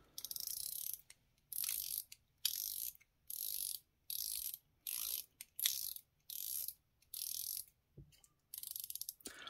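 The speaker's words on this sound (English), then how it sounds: "let's check the 120 click unidirectional rotating bezel" A 120-click unidirectional rotating bezel on a stainless steel or bronze homage dive watch ratchets in close bursts of fine rapid clicks, about a dozen separate turns separated by short pauses.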